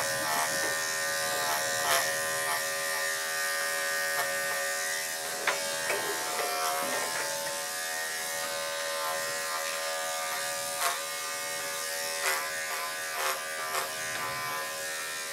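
Electric grooming clippers shaving down a Shih Tzu give a loud, steady close-up buzz throughout, with brief clicks and small changes in pitch as the blades move through the dog's coat and no voices over it.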